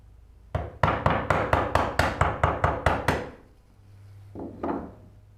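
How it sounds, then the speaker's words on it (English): A mallet drives a small chisel into wood, about ten sharp, evenly spaced knocks in quick succession, then a pause and two softer taps close by. "Use smaller chisels so I can go in at an angle."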